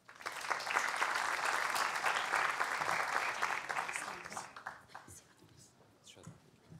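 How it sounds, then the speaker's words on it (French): An audience at a Tunisian success-stories forum applauds a presenter onstage. The clapping is dense and steady at first, then thins out and fades to scattered claps. "Je vous prie d'inviter et d'applaudir Monsieur Rémi Gagliardi"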